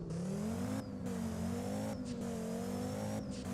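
A five-cylinder car in the Driving Empire game accelerating hard from a standstill to 60, engine revving up through several gear changes with brief dips between shifts, steady and fairly quiet with no talk.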